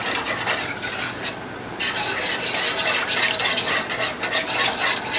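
Heavy cream is whisked into keto gravy in a hot pan, a rapid rhythmic swishing and metal scraping over a low simmering hiss, close and fairly loud.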